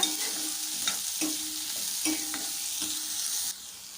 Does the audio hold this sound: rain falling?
no